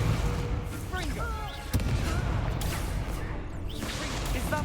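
A Confringo blasting spell cast in the Hogwarts Legacy video game, with a sharp burst partway through that rises out of a dense, continuous wash of magical combat noise.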